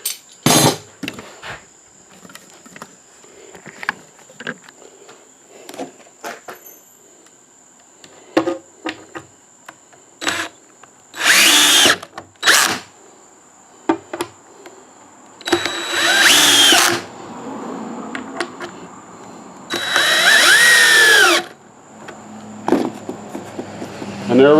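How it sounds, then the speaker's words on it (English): Power drill driving screws into 3/4-inch plywood bookcase shelves, heard as several short separate bursts of whirring with quiet handling and tool clatter in between. "we'll just go ahead and run the rest of the screws in down here"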